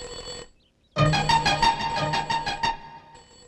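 A telephone ringing indoors, a loud warbling electronic ring pattern that starts abruptly after a brief quiet and repeats in rapid pulses for about two seconds.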